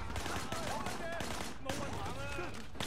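Rapid gunfire from a real gun in the Sleeping Dogs video game crackles in quick bursts, mixed with a steady din of game sound effects.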